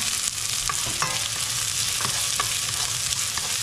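Garlic frying in a pan while Filipino-style pork giniling is cooked, a steady close sizzle running continuously with faint stirring scrapes and clicks over it, no voices.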